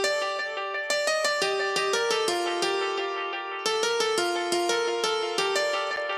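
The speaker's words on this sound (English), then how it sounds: "And basically this sound is like a really sharp piano" A sharp, bright house piano sample from a Korg M1 synth plays rhythmic chord stabs in a steady dance pattern, loud and clean with no voice over it.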